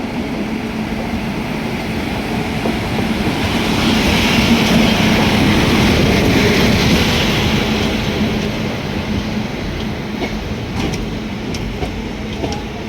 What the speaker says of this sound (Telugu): ట్రైన్ జమ్మలమడుగు స్టేషన్కి అయితే ఎంటర్ అవుతుంది